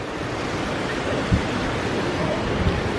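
Ocean surf at Kaanapali Beach, Maui, heard as a constant broad wash of waves with a couple of faint thumps, steady and fairly loud with no talking.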